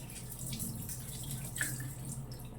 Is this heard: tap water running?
yes